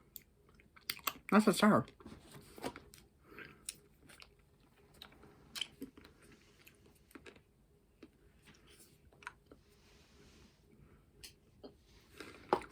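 Hard candy crunched and chewed close to the mic in a run of irregular crackling bites, loudest near the start and then trailing off into softer chewing, with a few spoken words mixed in.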